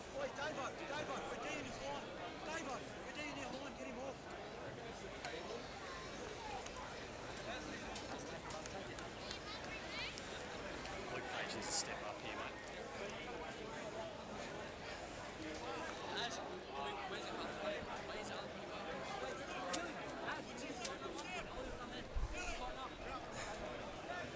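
Steady crowd chatter fills a rugby league ground at Marley Brown Ovals as spectators arrive for an Intrust Super Cup match between the CQ Capras and Burleigh Bears, a continuous murmur of many distant voices with occasional louder calls.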